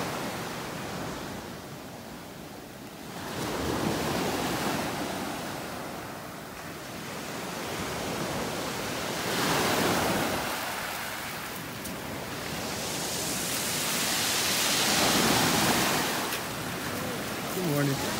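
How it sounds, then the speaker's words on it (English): Heavy surf pounds a beach in North Naples, Florida on a morning walk, big waves swelling and crashing in slow repeated surges of broad roaring wash, loud and close, with no voices over it. "Listen to those waves. They're actually pounding the beach pretty hard this morning."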